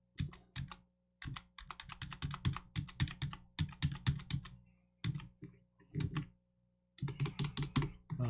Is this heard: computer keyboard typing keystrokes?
yes